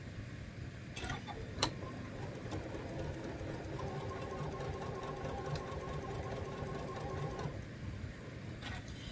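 A sewing machine top stitching along a line on a fabric table runner, running as a steady mechanical hum with a fast needle rhythm for several seconds before stopping. A few sharp clicks and clunks come from handling the machine.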